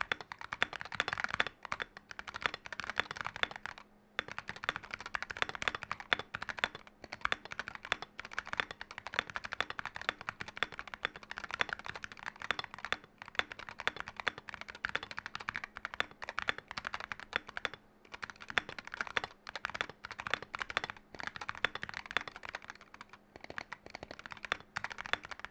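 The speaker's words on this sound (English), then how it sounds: "so you guys get an understanding of what typing on it sounds like, I did the MonkeyType thing, just listen to it" Fast continuous typing on a custom Wooting 60HE+ 60% keyboard, a crisp close-up stream of clean keystrokes with occasional louder spacebar hits and short pauses between bursts.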